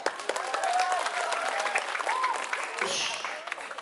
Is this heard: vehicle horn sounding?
no